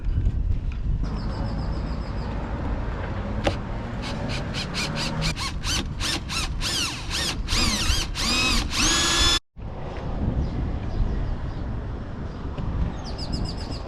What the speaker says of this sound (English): So now I'll be able to get a drill on there and hopefully drill out that screw.